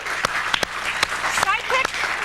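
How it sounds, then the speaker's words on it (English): Studio audience applause on a comedy talk show, a short burst of loud clapping mixed with cheering and whoops as a co-host is introduced. "start clapping again"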